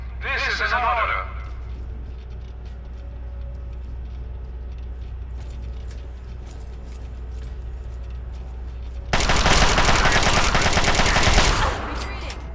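Gunfire in Fallout 3 on PS3: a dense, loud burst of rapid shots near the end, following a stretch of game ambience and a radio-style voice, with talk early on.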